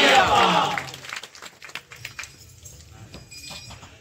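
An audience claps at a temple padi puja, with a burst of applause at the start that fades quickly into scattered murmurs and crowd noise.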